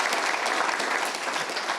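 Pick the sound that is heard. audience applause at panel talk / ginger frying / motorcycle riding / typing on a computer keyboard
audience applause at panel talk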